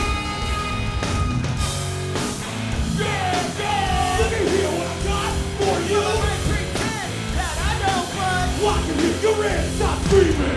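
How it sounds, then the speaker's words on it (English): A crowd screams and yells backstage at a rock concert, with overlapping shouts and whoops that are loud and continuous, and individual voices rise above the din throughout. "Stop screaming!"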